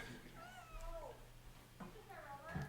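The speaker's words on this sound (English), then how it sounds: "there's your kitty cat right there" A house cat meows a few times, drawn-out and mid-distance, during a casual interview, with a steady low hum underneath and people's voices nearby.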